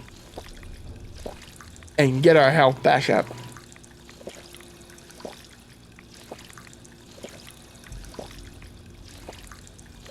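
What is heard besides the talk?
drinking from a water fountain in Fallout 4, video game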